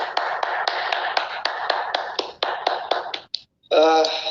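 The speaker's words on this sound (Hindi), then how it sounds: "एक जोरदार ताली दीजिए।" Clapping at a Hindi-language talk or event, as a host calls for loud applause: a rapid series of sharp, close claps, several distinct hits each half second, then a short pause before a voice begins speaking.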